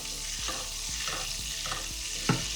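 Steak sizzles in a pan of oil and butter, a steady close frying hiss with occasional soft stirring taps and a brief louder spatter near the end.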